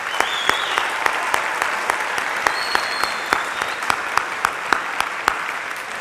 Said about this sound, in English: could we get a big round of applause for Miss Amy Hinkson?